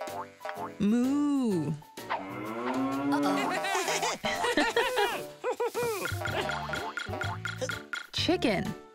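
A cartoon cow mooing in a toddler learning show, with a long, rising and falling moo that sounds voiced, under cheerful talk and background music, probably a voice imitating the cow.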